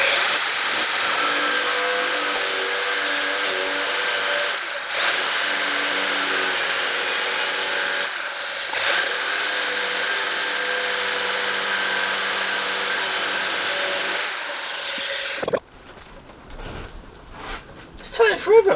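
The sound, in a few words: angle grinder disc cutting metal tubing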